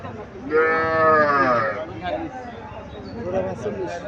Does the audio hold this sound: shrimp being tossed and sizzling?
no